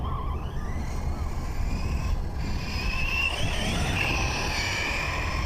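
An HPI Vorza S Flux electric RC truggy drives over slightly damp ground, its motor whining and rising in pitch as it accelerates, with tire and surface noise under a faint background voice.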